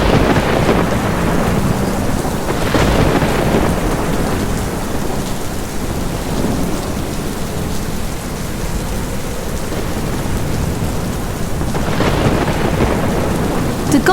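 A thunderstorm sound effect for a devotional stage drama, steady heavy rain with rolling thunder swelling near the start and again toward the end, loud and continuous.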